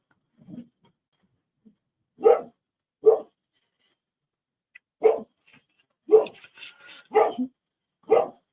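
A dog barks repeatedly, single sharp barks spaced out with pauses, with a few quicker yips near the end, fairly close and clear against a quiet background.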